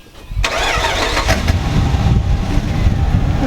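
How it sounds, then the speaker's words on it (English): An engine starts up on a car running its stock exhaust: a short cranking scrape, then a sudden catch into a loud, rough idle that settles and continues close by, with nobody speaking. "let's fire this thing up and see just how terrible"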